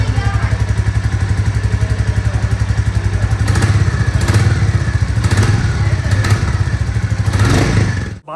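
Close, loud Royal Enfield Classic 350 exhaust thumps along at a steady beat, then swells in several short revving bursts before cutting off at the end.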